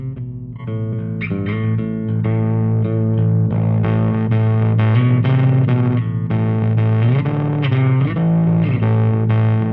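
Instrument played through a RedStone preamp pedal set to low gain, mildly driven, sustained notes and chords at steady volume, heard alone without talk.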